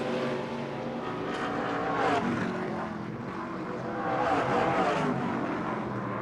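Several NASCAR ARCA Menards Series West race cars battle for position at Sonoma Raceway, engines roaring loud and steady with rising and falling passes, no talk over it.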